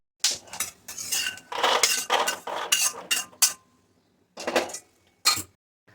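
Dry fruits roasting in a metal kadhai over a low flame: bursts of a spatula scraping and clattering against the pan, separated by short pauses, close and fairly loud.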